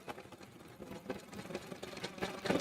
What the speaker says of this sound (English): I've got it set on just a straight stitch for sewing and quilting, and I'm going to stitch right along that crease